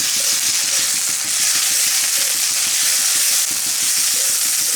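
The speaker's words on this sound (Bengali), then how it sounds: "পেঁয়াজের সঙ্গে আদা রসুনটা খুব ভালো করে ভেজে নেব, যাতে কাঁচা গন্ধ চলে যায়।" Softened chopped onion with ginger-garlic paste frying in a pan for an egg curry, a dense steady sizzle with rapid crackling and faint scraping stirs, close and continuous, no voices.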